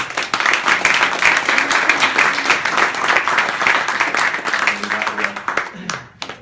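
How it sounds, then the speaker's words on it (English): A round of applause at an office leaving-speeches gathering: dense, close clapping from a small group holds steady for about six seconds, then breaks off abruptly. "give me a round of applause."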